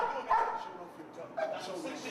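Dogs on a martial arts film set give a couple of short yips and barks, fairly close, with voices talking through them.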